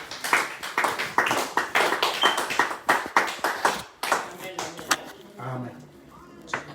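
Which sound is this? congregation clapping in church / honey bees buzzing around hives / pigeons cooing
congregation clapping in church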